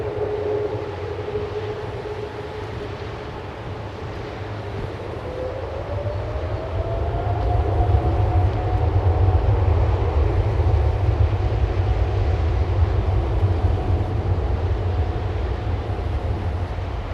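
A British Airways Boeing 777 jet takes off, its engines building from a steady whine into a louder, rumbling roar that swells and holds in the middle distance.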